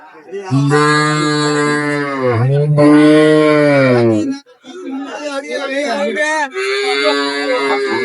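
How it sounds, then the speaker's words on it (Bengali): Cows and calves at a rural cattle market in Bangladesh moo loudly and close by, with long drawn-out calls, while people talk in the background. "আমরা দেখছিলাম গাভী বাচুর"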